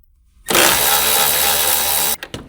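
An electric impact wrench with a 10 mm shallow socket runs on a radiator fan mounting bolt of a 2006-2015 Honda Civic, a single loud continuous whir of about two seconds, then brief short bursts.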